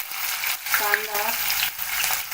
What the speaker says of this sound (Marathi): कांदा चांगला गुलाबी होईपर्यंत तळायचा आहे।